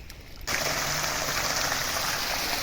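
Water gushing steadily from a motor-driven pump into a farm field, starting abruptly and then running as a loud, continuous rush close by.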